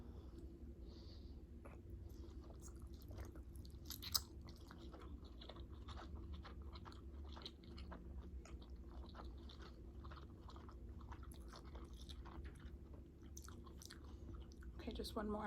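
Steady chewing of steamed dumplings during a spicy curry ramen meal, soft wet mastication and biting sounds repeating continuously up close, with a low background hum underneath.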